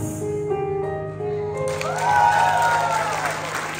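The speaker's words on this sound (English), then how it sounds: "another big round of applause" An audience breaks into applause after a live singing performance, clapping building and swelling into steady, full applause as the last held music notes fade out.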